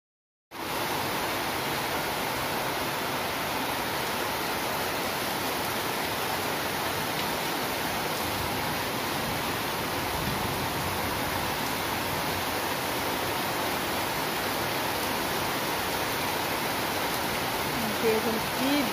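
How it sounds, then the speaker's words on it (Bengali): Heavy rain pours down in a steady, dense roar that holds at an even loudness throughout, with no distinct drops or pauses. "দেখুন কি জোরে বৃষ্টি হচ্ছে।"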